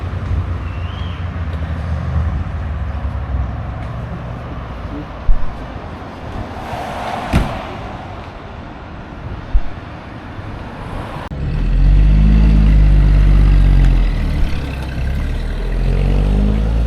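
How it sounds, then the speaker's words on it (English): A modded black Lamborghini Aventador crawling past on a Tokyo street in first gear, its low engine rumble swelling loud and close in the latter part over background city noise, with brief sharp knocks earlier. "it's still that same modded black Aventador that just drives really slow, makes a lot of noise"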